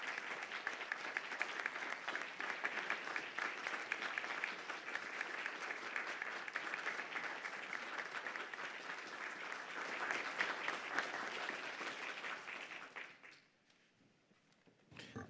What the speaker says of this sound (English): Let's give a round of applause and an ovation to all of our members who served on our advisory committee.